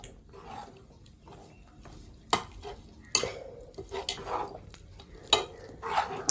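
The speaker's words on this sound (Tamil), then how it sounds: "இதை நம்ம கரண்டியால் நல்லா மசிச்சு விட்டுக்குவோம்." Cooked green gram dal being mashed with a ladle in a pot: scattered soft stirring scrapes broken by a few sharp metallic clanks of the ladle against the vessel, close and without speech.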